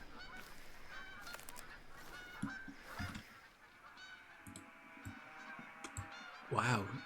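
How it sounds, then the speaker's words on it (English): Geese honk in the Hirschfelden hunting video game, a burst of calls over steady ambient game background, with one loud, close honk near the end; a voice talks intermittently. "Oh, I can hear geese."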